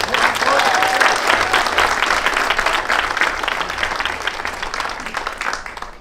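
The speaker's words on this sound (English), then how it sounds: "So, round of applause for Ballyhogue." Crowd applause after a junior A football final, loud close clapping that starts strong and gradually tapers off, with a few voices mixed in.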